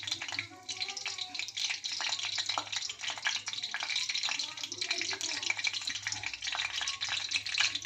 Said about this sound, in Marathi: मोहरी तडतडा लागली आहे त्यानंतर अर्धा चमचा जिरे घालते